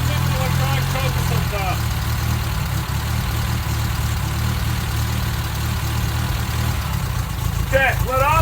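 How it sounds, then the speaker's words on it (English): A 1984 Toyota Tercel SR5 wagon engine idles steadily with its idle turned up, a continuous low rumble running throughout, with brief voices near the start and end. "Let's turn the idle up a little bit."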